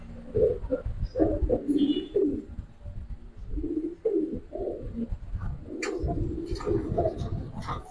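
Giribaz pigeons of the silver khaki variety coo in low throaty bursts, several overlapping calls close by, with faint rustling and a few sharp clicks between them.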